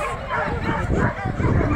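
Dogs at the start of a canicross race, several barking and yipping together in a loud, dense chorus with excited whimpers, crowd voices mixed underneath.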